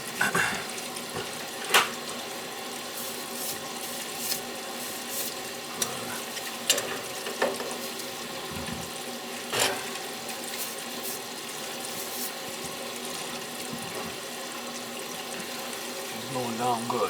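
Water draining down a backed-up bathtub drain under repair, a continuous close gurgling wash with occasional knocks and clatters, while someone talks now and then over it.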